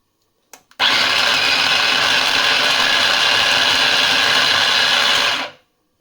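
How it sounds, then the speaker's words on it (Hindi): An electric chopper whirs steadily for about five seconds while chopping soya chunks, its loud, continuous motor buzz starting abruptly after a couple of small clicks and winding down at the end. "उसके बाद मैंने ये इलेक्ट्रिक चॉपर ली है।"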